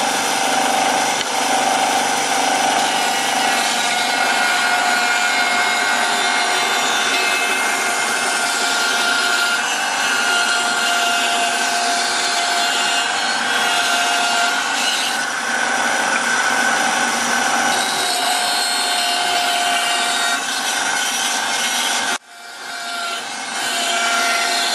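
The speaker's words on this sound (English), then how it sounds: "I'm just going to saw it down on the bandsaw and work from there." A bandsaw cuts timber for a stick dulcimer soundboard, a loud continuous whining buzz of blade through wood lasting over twenty seconds, steady and close, before the cut ends and the sound drops away.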